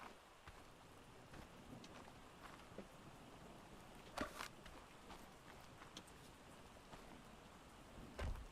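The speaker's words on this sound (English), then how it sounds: "Oh, it's raining." Rain falling in the video game ARK, a faint, steady patter with a few brief louder bursts, heard alone without talking.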